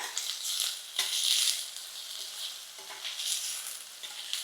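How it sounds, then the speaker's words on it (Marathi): Onion frying in a pan until soft for a spiced drumstick-leaf (moringa) vegetable dish, a steady soft sizzle with faint stirring scrapes, moderately close and quiet, with no talk. "आता आपल्याला ह्याच्यात कांदा टाकायचा आहे आणि कांदा आपल्याला असा नरम करून घ्यायचा"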